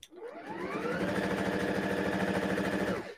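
Sewing machine running steadily for about three seconds, joining a firm fabric to a slippery one, with a fast even stitching rhythm and a rising motor whine, close and loud with no talk.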